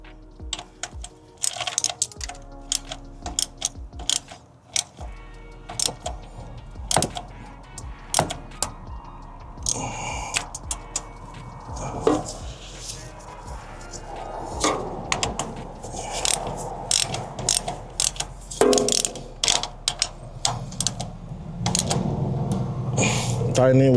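Valve cover bolts on a 2007–2011 Toyota Camry engine turned by hand with a ratchet, quick clicking bursts and metallic ticks in uneven runs, close by, with short pauses between turns.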